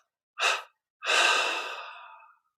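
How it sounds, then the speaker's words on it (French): A deep meditative breath drawn in, then a long slow exhalation fading out, two close breathy sounds with a pause between, alone in a quiet room. "une inspiration profonde. 3 expirations"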